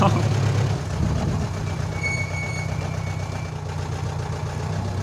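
Jeep engine in four-wheel drive on an off-road safari track near Kanthalloor, Kerala, a steady low idling rumble with rattling bodywork, close and continuous, with faint voices in the background.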